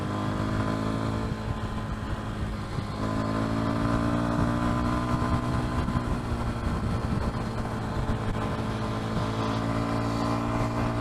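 Kawasaki KLX230 dual-sport motorcycle being ridden, its single-cylinder engine droning steadily and close up for the whole stretch, with slight shifts in pitch as the throttle varies and constant wind rush over the microphone.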